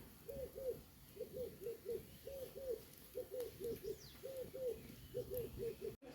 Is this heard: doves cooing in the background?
yes